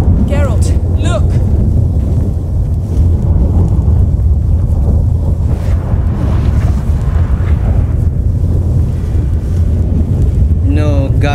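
A storm with thunder in The Witcher 3: loud, constant rumbling wind and thunder roaring up close, with voices speaking over it.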